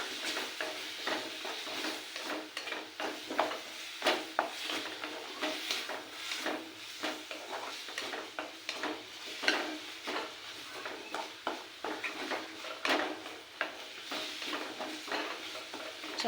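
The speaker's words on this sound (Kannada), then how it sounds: "ಒಂದು ಟೊಮೊಟೊ, ಒಂದು ಈರುಳ್ಳಿ, ಹಾಗೆ 2 ನಾಟಿ ಬೆಳ್ಳುಳ್ಳಿ, ಸ್ವಲ್ಪ ಎಣ್ಣೆ ಹಾಕಿ ಫ್ರೈ ಮಾಡ್ಕೊಳ್ತೀನಿ." Tomato, onion and garlic frying in a little oil for a village-style chutney make a soft sizzle under repeated stirring scrapes and light clatter, close and fairly quiet, with no voices.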